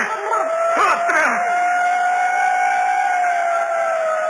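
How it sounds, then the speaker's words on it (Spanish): A police patrol car siren sound effect in a Spanish radio drama wails in a long, steady, loud sustained tone, with a brief burst of voices or noise near the start. "El ruido de la sirena de una patrulla rompió aquel silencio expectante."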